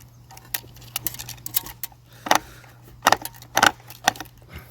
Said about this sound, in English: we're going to turn this clockwise, and that's going to pull the string trimmer line in